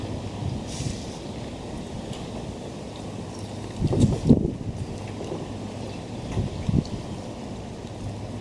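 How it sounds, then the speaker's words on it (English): Wind blowing outdoors and buffeting the microphone in a steady, rumbling roar, with a couple of stronger gusts midway and near the end; no talking. "It's very windy right now."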